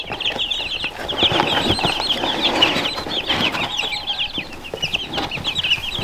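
Young chicks in a cardboard box, opened on both sides, at a farmyard feeding and watering time, giving a dense, steady chorus of high peeping and clucking close by, with no talk.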